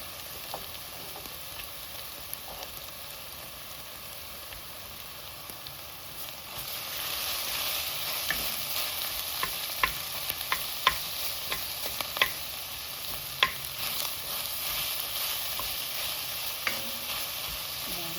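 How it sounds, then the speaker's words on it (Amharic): Garlic and ginger sizzle in a pan of hot oil while a utensil stirs, scraping and tapping at irregular intervals; the frying swells louder partway through and continues steadily. "ይሄ ነጭ ሽንኩርትና ዝንጅብላችን ነው። አብሮ ከሱ ጋር እንዲቆላል።"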